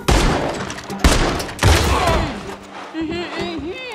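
Gunfire in Red Dead Redemption 2, a few sharp shots in quick succession over an outdoor scene, followed by a voice talking.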